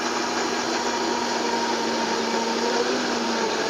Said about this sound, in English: take the little center part out of the blender top, turn this on